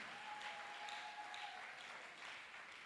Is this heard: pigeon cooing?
no